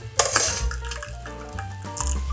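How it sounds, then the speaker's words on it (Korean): Boiling water from an electric kettle is poured over a small 200 g block of Spam in a dish, a steady splashing pour with light clinks against the container. "커피포트에 끓는 물에 한번 기름기를 깨끗하게 씻어내 주세요."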